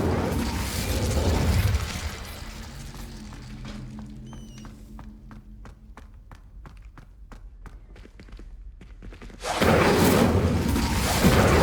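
A fire spell cast in Hogwarts Legacy to relight a brazier: a loud whooshing burst of flame, then a quieter stretch of clicking mechanism sounds and chimes, ending in another loud roaring flare.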